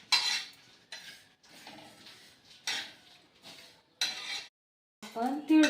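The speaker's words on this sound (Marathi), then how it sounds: "कोरडंच भाजून घ्यायचं आहे मित्रांनो" Niger seeds dry-roasting in a pan, with separate bursts of scraping and rattling as they are stirred, then a short clattering clink at the end.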